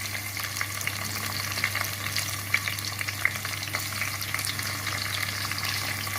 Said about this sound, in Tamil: வெங்காயத்தை போடலாம். வெங்காயமும் பச்சை மிளகாயும்.